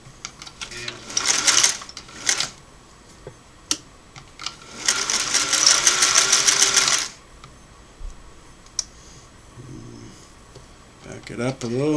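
Singer Model 503A twin-needle sewing machine running straight stitches in two long bursts of rapid, even stitching, with shorter runs and handling clicks between them and brief talk near the end.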